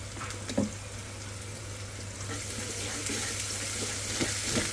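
Potatoes and ginger-garlic paste go into a frying pan, producing a steady close sizzle under a low hum, broken by a few soft knocks and stirring sounds.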